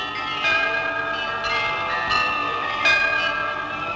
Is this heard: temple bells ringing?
yes